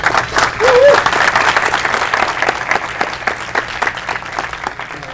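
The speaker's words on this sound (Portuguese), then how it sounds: "Palmas aqui para" Audience applause at a talk on investing and passive income swells quickly, then continues at a steady level. It is a moderately loud wash of clapping with a brief voice over the start.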